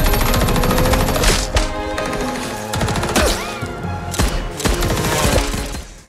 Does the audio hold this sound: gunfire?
yes